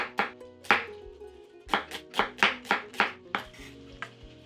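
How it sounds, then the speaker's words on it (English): A knife thinly slices a red onion on a cutting board, giving a quick series of about a dozen crisp, close chops in an uneven rhythm, with no talking. "I have 1 red onion, just slice it very thinly."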